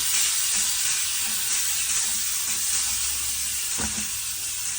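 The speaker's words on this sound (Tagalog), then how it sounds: "ginisa natin ang ating bawang sibuyas" Garlic, onion and tomatoes sizzle steadily in a hot pan, a continuous bright frying hiss with occasional soft stirring knocks, close and alone with no talk.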